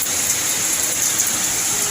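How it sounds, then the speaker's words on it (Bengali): Heavy rain pours down in a steady, dense hiss that stays constant and fairly loud throughout, with no voices over it. "এই যে আবার বৃষ্টি নেমেছে"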